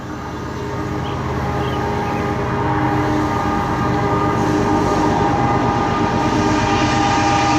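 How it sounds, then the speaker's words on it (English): A passing train rumbles loudly and continuously beside an overlook halfway up to a lighthouse, its steady clatter building gradually, with long sustained horn tones held across the whole passage and no talk. "Here comes the train."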